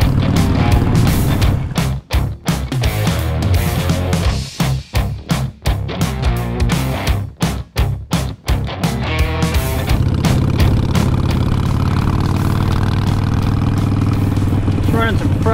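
An Iron 883 Sportster motorcycle rumbles loud and close on the road during a ride, with the engine note rising and falling and brief dips between gear changes, with wind noise throughout.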